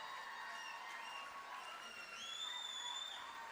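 Faint, distant audience applause at a medical college silver jubilee celebration, soft and steady, with high whistling tones threaded over it.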